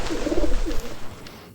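A pigeon coos in a pigeon-keeping video game, a soft, throaty burbling call heard clearly over a steady background hum for about a second and a half.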